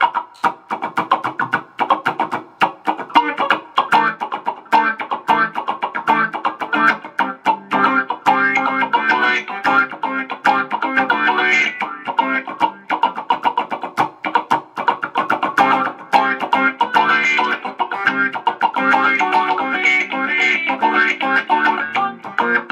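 Electric guitar played through a Boss ME-80 multi-effects unit on its T-wah setting into a Marshall MG15HCFX amp, giving a sweeping auto-wah tone over a steady stream of strummed and picked notes, loud and close.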